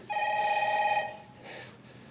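A telephone rings indoors: one clear electronic ring lasting about a second, followed by a fainter second ring, with quiet room tone around it.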